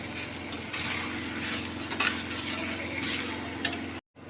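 Tomatoes sautéing with salt in a pan give a steady close sizzle with stirring scrapes throughout, ending abruptly in a brief silence.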